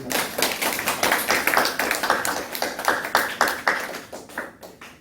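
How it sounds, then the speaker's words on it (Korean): Congregation at a Sunday afternoon church service claps in a brisk, even rhythm, a close run of sharp unison claps with no talk over it. "박수 한번 쳐줘요."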